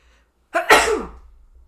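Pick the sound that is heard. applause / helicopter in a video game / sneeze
sneeze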